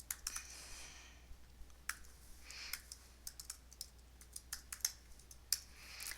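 Names being typed on a computer keyboard, a quiet, uneven run of close key clicks with short pauses, no voices.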